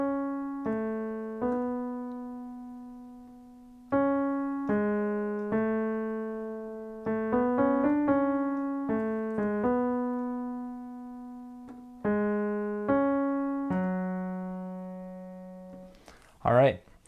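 A piano plays the clear single-line right-hand melody of a song at a moderate pace, notes struck and left to decay, with a brief noisy sound at the very end.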